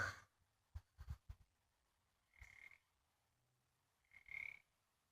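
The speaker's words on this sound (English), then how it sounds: "Them darn frogs are going Looney Tune out here, just squalling and squalling and squalling." Frogs croak outdoors in faint, scattered bursts, a few low clucks followed by two longer raspy calls, with quiet pauses between.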